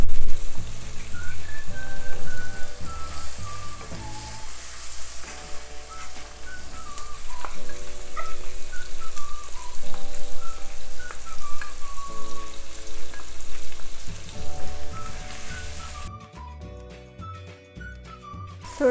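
Oil sizzles steadily in a pan as turmeric powder goes in for a potato and fenugreek curry. The frying hiss runs close and continuous, with a melodic tune playing alongside it.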